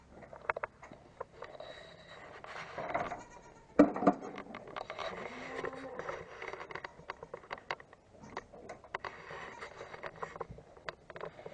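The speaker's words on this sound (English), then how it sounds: "Little goat's hungry. Gotta feed her." A hungry little goat in a barn bleats a few times amid rustling, knocking and scattered barn noises nearby, with no talking.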